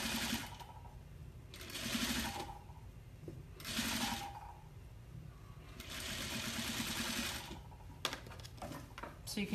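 A sewing machine fitted with a velvet presser foot stitches fabric for a small wristlet bag. It runs in three short whirring bursts with pauses between them, close by, and quiet handling noises fill the gaps.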